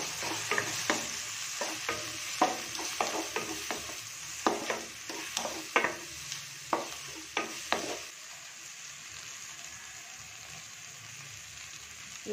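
Tomatoes with turmeric, coriander and chili powders fry in a pan for a ridge gourd kootu, with repeated spoon-stirring scrapes over a steady soft sizzle that settles toward the end.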